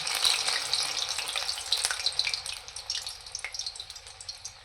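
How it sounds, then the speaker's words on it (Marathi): Medu vada batter sizzling steadily in hot oil as rounded portions are dropped in, giving a continuous bubbling hiss with small crackles throughout. "असं गोल करून घ्यायचं हातावर आणि तेलात सोडत जायचं"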